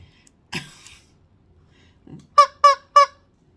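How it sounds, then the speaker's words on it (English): A squeezed rubber chicken toy lets out a muffled squeak, then three sharp, loud shrill honks in quick succession, close up with no talking. "Shrilling chicken."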